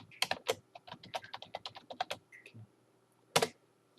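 Rapid, close keystrokes clatter on a computer keyboard as code is typed in quick bursts, followed by a short pause and one final cluster of key presses.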